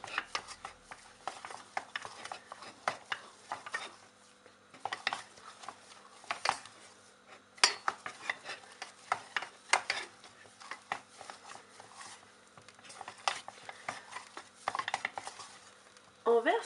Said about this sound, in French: je vais remettre ma préparation sur le feu pour la faire dessécher